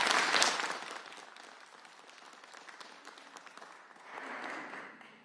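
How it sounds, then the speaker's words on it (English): A crowd of gun safety supporters breaks into hearty applause, loud at first, easing through the middle and swelling again near the end, with no voices over the clapping. "Give yourselves a huge round of applause for all of your grassroots work to make this happen."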